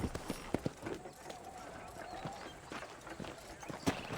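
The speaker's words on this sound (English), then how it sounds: "let's see if you can still ride a horse." Horse hooves clip-clop in a gallop across a ranch in the Red Dead Redemption video game, the irregular beats fairly close and moderately quiet over a steady ambient background.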